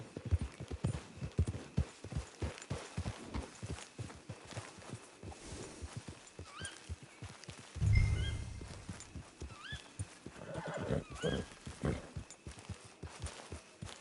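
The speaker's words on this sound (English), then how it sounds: "It's your horse." Horse in Red Dead Online walking with steady clip-clop hoofbeats throughout, a loud snort around the middle, and a few short whinnies scattered across the clip, all close up with no talking.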